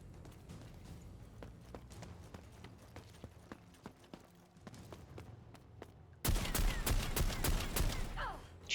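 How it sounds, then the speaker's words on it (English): Gunfire in the Necromunda: Underhive Wars video game: a run of sharp, fairly quiet single shots rings out, then a sudden loud burst of rapid automatic fire dominates the last couple of seconds. "Shooting Moron, I think"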